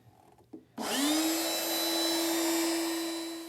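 A power saw spins up suddenly after a few faint knocks and holds a loud, steady high whine as it makes a compound miter cut through a wood workpiece tipped at an angle with the blade set to 45 degrees.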